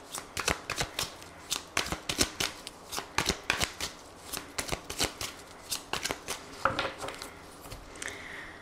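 Tarot cards are shuffled by hand in a quick, steady series of crisp riffling bursts, close and clear, with no talking over them.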